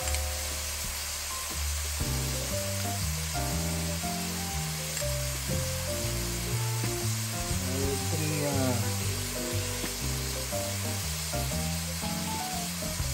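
Minced garlic sizzles in a hot pan over medium heat while pork asado is being cooked. The steady, close frying hiss runs beneath continuous background music.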